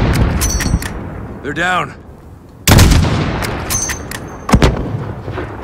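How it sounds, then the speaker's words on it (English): Gunfire in the video game Call of Duty: Modern Warfare, loud close shots and bursts with heavy booms, separated by pauses, while a voice speaks briefly over the action. "Look for the muzzle flash when they fire."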